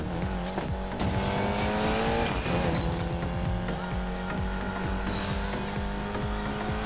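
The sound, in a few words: race car driving in the video game Need for Speed Payback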